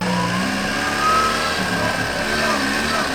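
A small car's engine drones loudly through a straight-pipe exhaust, steady and raspy with a slight swell in revs midway.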